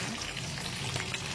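Food fries in oil in a pan on a stove at medium heat, giving a steady close crackling sizzle that carries on without pause and without voices.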